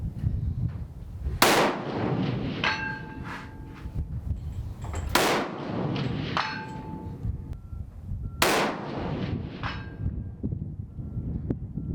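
Three sharp rifle reports from a Weatherby 307 Alpine ST fired at a 300-yard range, each a loud close crack followed by a metallic ring and echo, spaced several seconds apart with no talk.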